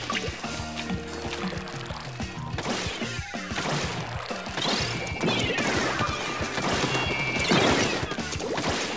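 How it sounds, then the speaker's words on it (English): Game sounds from Splatoon 2 pile up in a dense, busy mix of splashy impacts and sharp bursts, fitting a barrage of ink grenades going off in quick succession near the player. "They're doing a whole barrage of grenades."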